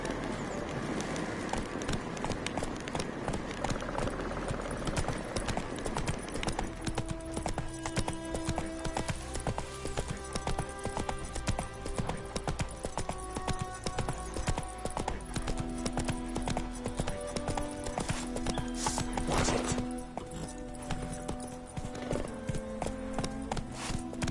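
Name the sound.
horse Roach galloping, from video game Witcher 3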